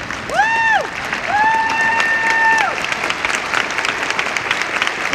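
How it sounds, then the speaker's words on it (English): An audience gives a high school concert band a standing ovation, a dense burst of close clapping mixed with crowd cheers and a couple of sustained high whistles early on, then continuing steady applause. "Stand up and give them a round of applause."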